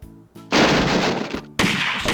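Fully automatic machine-gun fire from a Sega arcade shooter, loud sustained bursts with a brief gap before a second burst.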